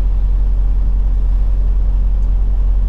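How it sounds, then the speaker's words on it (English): City traffic in Wichita, Kansas, heard from inside a truck cab, a steady low engine and road rumble that stays loud and even throughout with no voices. "City traffic is so much fun."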